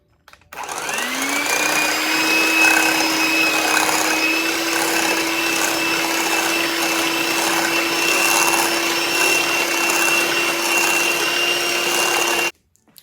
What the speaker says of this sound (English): we're going to mix all these together on medium speed until they're well combined